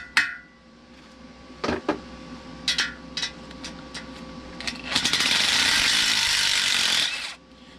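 An impact wrench hammers at broken timing cover bolts on a Buick 455 block, first in short stuttering bursts, then in one long loud continuous rattle lasting a couple of seconds before stopping.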